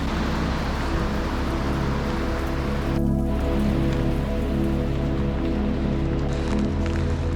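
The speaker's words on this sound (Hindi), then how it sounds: "बारिश जो है ना आहिस्ता आहिस्ता तेज़ हो रही है" Steady, dense rain pouring down continuously in Taip Banda, Pakistan, a loud broadband wash with no voices, holding at the same intensity throughout.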